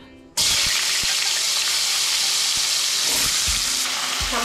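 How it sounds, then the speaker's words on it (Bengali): Potato cubes drop into hot oil in a home kitchen. After a brief quiet moment, a loud, steady sizzle starts and holds, with small crackles and pops scattered through it. "এবার ওই তেলের মধ্যে আলুগুলো ভেজে নেব।"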